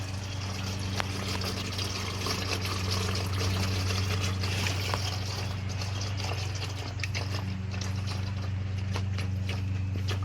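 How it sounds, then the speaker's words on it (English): Engine oil draining from a Fiat 500 during an oil change, a continuous trickle of liquid pouring into a pan, steady and close, with a low constant hum underneath and scattered clicks. "That's the engine oil, and let's just let it drain."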